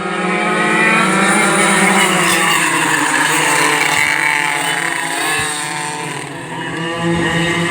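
Vintage racing karts scream past on a race-day track at a club kart meet, a loud sustained high-revving engine whine with layered harmonics and changing pitch as several machines pass close by.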